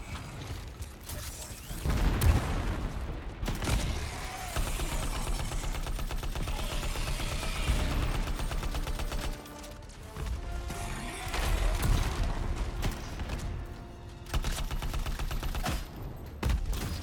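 LMG machine gun in the Anthem video game firing long sustained bursts of rapid shots, with brief pauses between volleys and mechanical clanks, loud and close with no talk.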